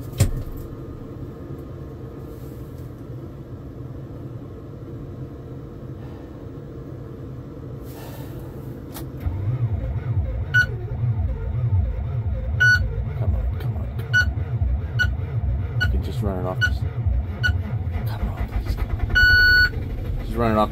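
Engine cranking on its starter and sputtering unevenly, a loud pulsing low rumble that kicks in partway and labors irregularly, with beeping tones over it and people talking.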